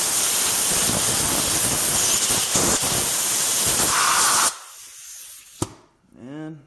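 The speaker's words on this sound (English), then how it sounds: "I'm going to use some chlorinated brake cleaner in here." Chlorinated brake cleaner sprayed from an aerosol can on a Dodge Ram 2500 supercharger upgrade, a loud, steady close-up hiss lasting several seconds before cutting off, followed by a click and a brief voiced sound.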